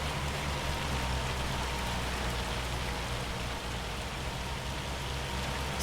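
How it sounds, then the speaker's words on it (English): Hail falling in the Farming Simulator 25 video game, a steady, even patter like heavy rain drumming on surfaces, continuous and moderately quiet, with no voices. "Seems like the hail is coming down harder than ever."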